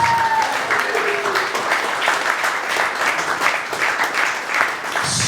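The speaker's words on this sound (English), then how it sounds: "Round of applause, guys." Guests at a wedding give a lively round of applause, many hands clapping densely and close for several seconds with scattered cheers and voices mixed in.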